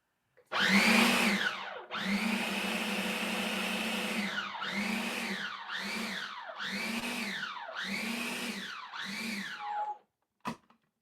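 A struggling food processor blends smoked avocado guacamole, its motor roaring in a run of about seven bursts that begin long and get shorter, each pitch rising and then falling, before it stops with a short click.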